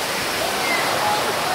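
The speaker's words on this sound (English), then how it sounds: "Rain. Waterfall." Steady rushing roar of a waterfall inside Tropical World Leeds, broad and continuous with no breaks, with faint speech mixed in beneath the water.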